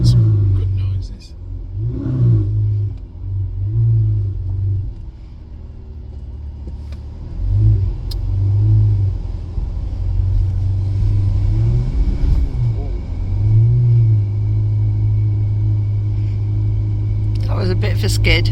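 Ferrari engine revving in bursts while driving on snow and ice, a loud, close rumbling drone that swells and dips repeatedly, with faint voices in the background.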